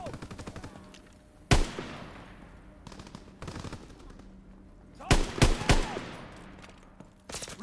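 Sharp, close machine gun fire from a Call of Duty-style video game, in separate bursts with a few loud cracks and quieter rattling between them, over low background game noise.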